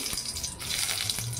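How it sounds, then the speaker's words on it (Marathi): Cloves and peppercorns sizzle and spatter steadily in hot oil with faint crackling pops, close by, lasting only a moment. "बघा कशा लवंगा तडतडल्या"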